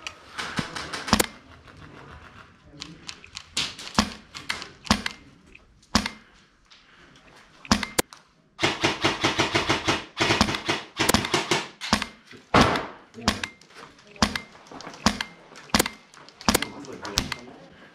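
PolarStar Kythera airsoft gun firing during an airsoft game, sharp close cracks coming as single shots and in rapid bursts separated by short pauses, with faint voices in the background.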